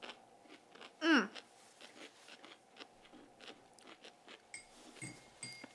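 A crunchy, salty dill pickle is bitten with one loud, sharp crunch, followed by quieter, irregular chewing crunches close by.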